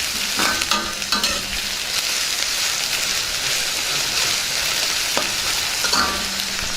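Ginger, green chillies and curry leaves fry in hot oil in a pan, a steady close sizzle broken by scraping stirs of a spoon, with no voices.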